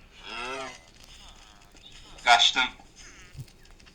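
A short, loud moo-like call rings out between stretches of talk, a synthesized cow in Minecraft.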